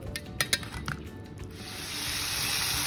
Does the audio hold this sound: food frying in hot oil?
yes